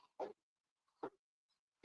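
A dog barks from inside a car through a rolled-down window, giving two short separate barks about a second apart, then a louder third bark starting at the end, with quiet gaps between.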